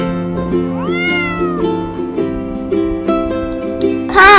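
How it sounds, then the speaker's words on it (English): A single clear cat meow rises and falls over soft background music, followed by a brief burst of noise at the end. "Cat."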